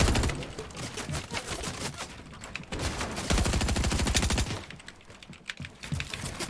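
Rapid gunfire from the video game Fortnite Battle Royale, dense bursts of shots rattling almost continuously, loud and close with brief gaps.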